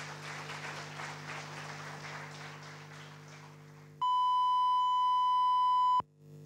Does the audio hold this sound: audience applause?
yes